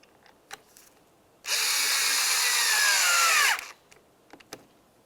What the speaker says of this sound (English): continue on with your one Phillips head screw. Start it in and snug it up.